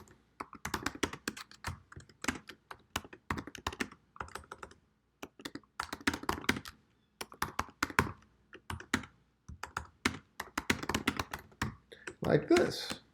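A number is typed on a computer keyboard in close, crisp bursts of rapid key clicks, separated by short pauses, with a few heavier taps toward the end.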